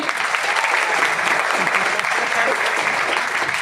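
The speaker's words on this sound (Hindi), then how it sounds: "अब आपसे रिक्वेस्ट करूंगा दोस्तों कि अपने स्वयं के लिए एक बार जोरदार तालियां बजा दें।" A meeting audience claps loudly together in continuous dense applause, a thick even roar of hands filling the whole stretch without pause, close and strong.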